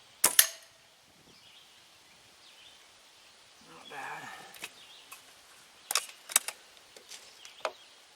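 Sharp cracks from a Crosman Phoenix air rifle with a synthetic stock rested on a bipod outdoors: one crisp shot near the start, then a tight cluster of shots and lighter clicks later, over faint wind.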